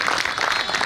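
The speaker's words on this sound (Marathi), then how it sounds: "जोरदार टाळ्या बाजूया ॲडव्होकेट विवेकानंद घाडगे साहेब यांच्यासाठी." An audience of lawyers at a public felicitation ceremony claps in a dense, loud burst of applause, very brief.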